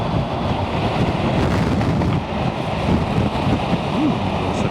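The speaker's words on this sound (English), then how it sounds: "Ooh, also got real windy." Strong, steady wind buffets the microphone on a motorcycle camping trip after a storm, a dense continuous roar with gusty swells throughout and no clear speech over it.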